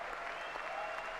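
A crowd claps steadily and densely throughout, a sustained wash of applause with no pauses.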